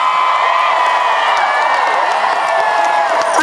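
A huge outdoor crowd at a 2017 downtown Los Angeles march cheers and whoops continuously, a dense, loud roar of voices with scattered clapping and no let-up.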